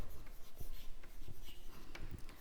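A teacher writing on a classroom board, a series of faint scratchy strokes and light taps in an uneven rhythm, quiet and close.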